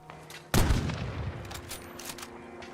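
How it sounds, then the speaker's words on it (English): Gunfire in the Fallout 4 video game aimed at the player: a sudden loud burst of shots kicks in, followed by a ragged scatter of further rapid shots and reverberating cracks over steady game ambience. "I'm getting slightly shot at"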